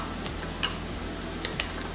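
Ingredients stirred together with a fork or spoon for a Moroccan chicken and couscous dish, a steady soft scraping with a few light taps against the bowl, close and quiet, no voices.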